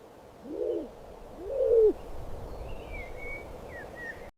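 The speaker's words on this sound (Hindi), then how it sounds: "एक अक्लमंद उल्लू भी करीब बैठा था।" An owl in an animated children's cartoon gives two soft, low hoots, the second louder, over a dim night ambience with faint higher chirps later.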